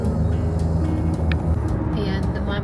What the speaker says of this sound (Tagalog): Mabibilis ang mga sasakyan.